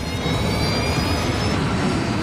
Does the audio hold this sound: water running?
no